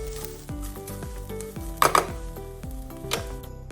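Spices frying in oil in a pan for an egg masala curry, a close sizzle with spatula scrapes and a couple of sharp metallic clinks against the pan.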